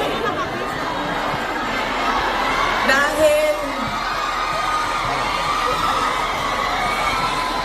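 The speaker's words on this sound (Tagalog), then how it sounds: "Dahil kayo ay sumisigaw ng Duterte, suspended na kayo lahat bukas" A crowd of children in the Philippines shouts and cheers, a dense chorus of voices that swells with a sharp whoop around the middle and then settles into chatter.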